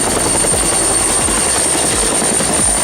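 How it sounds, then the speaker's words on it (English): A helicopter's rotor beats out a steady, rhythmic thumping under a constant high engine whine, loud and continuous, with no voices. "This is a helicopter."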